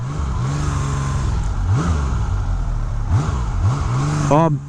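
A 1981 Honda CBX motorcycle engine revving up through several rising and falling sweeps, loud and close, ending with a sharp climbing rev.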